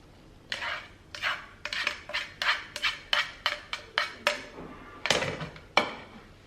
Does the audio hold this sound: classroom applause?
no